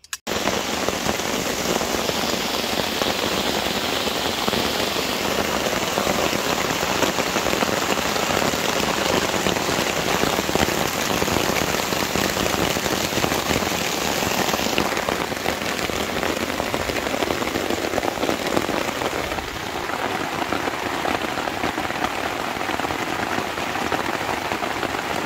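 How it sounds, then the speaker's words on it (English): Torrential downpour hammering on a tent during an extreme thunderstorm, a loud dense unbroken roar of drumming raindrops right overhead, continuous throughout with no voices. "it's come one heck of a torrential downpour"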